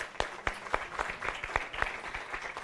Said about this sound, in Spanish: Recibimos con un cálido aplauso